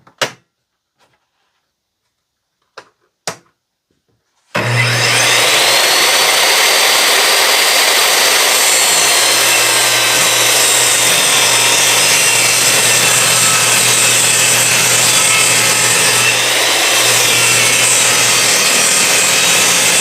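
A power saw cuts through a 1-inch-thick red oak board run from a portable power station. After a few faint knocks, a loud, steady whining roar holds for about fifteen seconds, close and uninterrupted.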